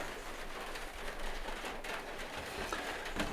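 Steady rain drumming on the roof of a stealth camper van, a dense continuous patter with scattered louder drops, close and moderately loud, with no one speaking.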